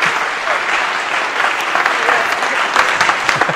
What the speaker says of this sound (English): Could you please give all our volunteers a round of applause?